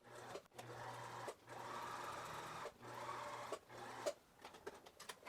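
A sewing machine topstitches the side pocket of white pants, running in several steady bursts with brief pauses between them, close and clear.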